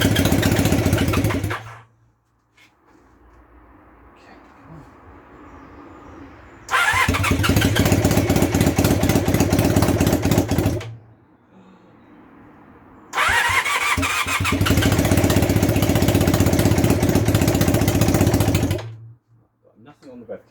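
A two-cylinder motorcycle engine in a project bike cranks and fires up twice, each time running loudly for several seconds before cutting out, with quiet gaps and a voice talking in between.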